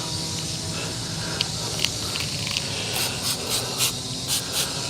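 A handheld water sprayer mists a bike during cleaning, a faint, steady hiss with several short, sharper spurts toward the end and no voices.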